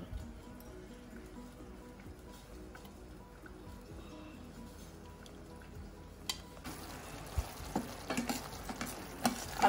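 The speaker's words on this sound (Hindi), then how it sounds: "2-4 मिनट के लिए ये ग्रेवी हमें और थोड़ी भूननी पड़ेगी" Dhaba-style shahi paneer gravy frying in a pan, a faint low sizzle with sporadic stirring knocks that grow louder and more frequent toward the end.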